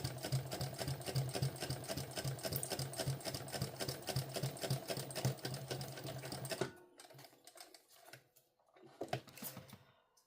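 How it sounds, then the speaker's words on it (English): Sewing machine running steadily as it top stitches down both long sides of a folded sling pouch strap, a close, continuous mechanical whir that stops partway, followed by a few quieter handling clicks and rustles. "Just top stitching down both long sides."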